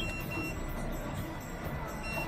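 Short high-pitched electronic warning beeps sound intermittently over the loud, rumbling drone of twin Yamaha F250 outboard engines on a 2023 Stabicraft 2750 boat as the throttle is applied.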